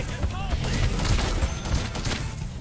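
Rapid bursts of gunfire and booms from the video game Paladins crackle continuously, dense and close, with a voice talking faintly underneath.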